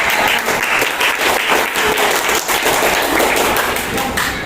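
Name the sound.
class applause for a group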